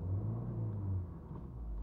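Car engine with a low, steady rumble held through a short stretch of driving, on a cold day, with a slight dip where the gear change comes, close and moderately loud with no talk.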